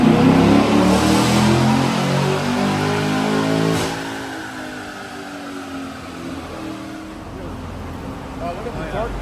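A 6.2-liter LT1 V8 in a 2023 Chevrolet Camaro revs hard on a dyno, loud and close, its roar easing slightly partway through and holding steady; people talk over the engine noise.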